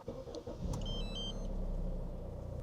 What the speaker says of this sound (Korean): 먼저 차량에 시동을 걸어주세요.